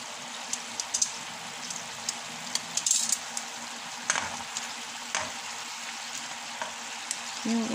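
Egg noodles with meatballs and soy sauce are stirred in a hot pan, giving a continuous sizzle broken by a series of sharp utensil clacks and scrapes at an irregular pace, close and fairly loud, with no talking.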